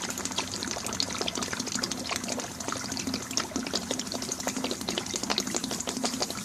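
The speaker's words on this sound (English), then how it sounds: "It's sucking air in now, and it's attempting to break the siphon." A water siphon draws in air as its flow weakens, producing a steady, moderately loud gurgling rush of water that continues throughout with no talking.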